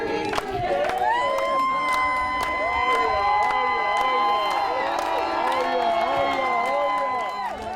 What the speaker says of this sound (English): DNA leader Orinthia Komolafe exited Central Police Station to a crowd of cheering supporters